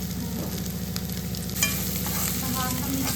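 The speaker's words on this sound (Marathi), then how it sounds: "आणि आता मोठा गॅस ठेवलाय आणि लवकर परतण्यासाठी." Cabbage and pumpkin stir-fried over a high flame, with a continuous close sizzle and repeated scraping stirs of the spatula in the pan, alone without talk.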